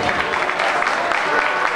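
Audience applause at a Café com Viola music event, dense continuous clapping from a crowd, loud and steady, with voices mixed in.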